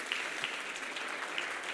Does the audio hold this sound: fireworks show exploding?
no